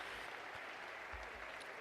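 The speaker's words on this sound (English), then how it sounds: "being applauded from his home crowd" A home crowd applauds a para climber at a climbing finals in Laval: faint, distant, steady clapping from spectators with a few low thumps mixed in.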